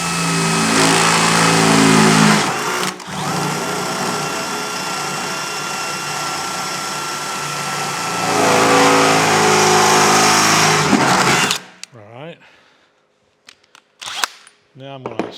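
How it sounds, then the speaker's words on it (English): A drill with a regular bit bores a pilot hole through two layers of a metal box, a loud, close whine that runs steadily, briefly dips, surges again and then cuts off. "I'm going to start by drilling a pilot hole here with just a regular drill bit."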